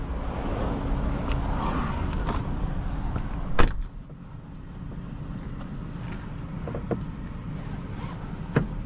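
A 2024 BMW 530i xDrive pulls away from a stop: a low, steady engine and road rumble with wind noise, a sharp knock near the middle and a few light clicks, no talk over it.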